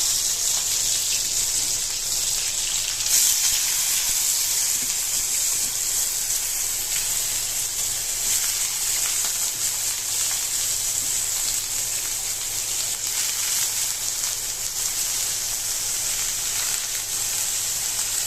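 Onions fry in hot oil with a constant, hissing sizzle that sounds like rain, close and even in loudness throughout, with no talking.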